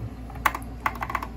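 Key presses on a Kinesis Advantage 360 keyboard: three or four distinct, close clicky taps spaced irregularly over a faint background hum, with no talking.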